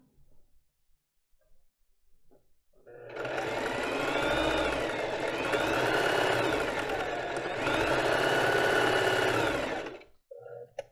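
Sewing machine stitching back and forth along a plus-size lace bra strap, running in two long, steady bursts of rapid mechanical whirring with a short pause between them, close and loud.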